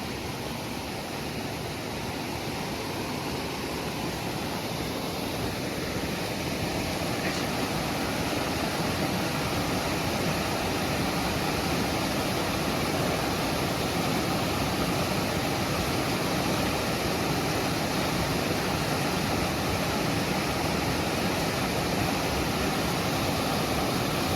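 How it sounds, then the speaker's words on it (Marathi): Floodwater rushes over a road in a constant, loud, broadband roar that stays unbroken throughout, close by and without voices. "एवढं जोरात पाणी वाहत असताना कस काय गाडी टाकायची"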